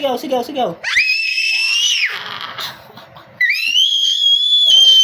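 A baby screaming loudly at home, two long piercing high-pitched shrieks, close and intense, with a short burst of babbling before and a pause between them.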